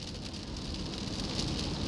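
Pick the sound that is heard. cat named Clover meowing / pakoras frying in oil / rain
rain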